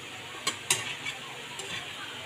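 Food sizzles and fries in a pan while a utensil stirs it, with a few sharp scraping clicks against the pan over a steady hiss, close by and moderately loud.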